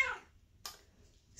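An angry feral cat in a shelter gives two short, harsh meows, the first longer and louder, the second a brief yowl, close by in a quiet room.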